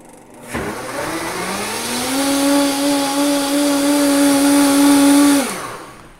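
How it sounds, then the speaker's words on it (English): A Vitamix 5300 blender switches on and ramps up to full speed, a loud, close whining roar that holds steady for several seconds before winding down sharply. "That's the Vitamix at full speed."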